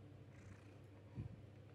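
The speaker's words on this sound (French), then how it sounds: "Il ronronne en tout cas." A faint, low rumbling purr from a cat, soft and close, with a slight swell near the end and no talking.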